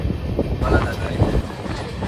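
A Konkan Railway passenger train running, heard from inside as a steady, loud low rumble of wheels and carriage noise, with faint background chatter.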